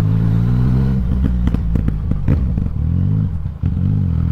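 A Yamaha MT-09 motorcycle with a remapped engine idles loudly up close, then revs in short bursts with popping and crackling between them.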